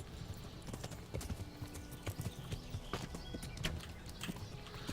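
Hooves clip-clopping at a steady riding pace on horseback in Kingdom Come: Deliverance, a quiet rhythmic run of hoof falls with faint ambient background and no talk.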